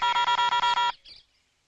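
A telephone is dialed with a quick run of about seven evenly spaced keypad tones, loud and close, followed by a short softer burst before quiet.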